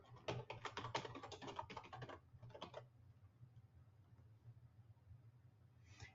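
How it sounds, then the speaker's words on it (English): Password being typed on a computer keyboard during a sign-in: a quick run of close, light key clicks for about two seconds, a short second burst, then near silence with a faint low hum. "It wants me to type in my username. And now my password."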